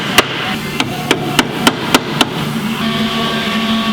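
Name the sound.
hammering on a car part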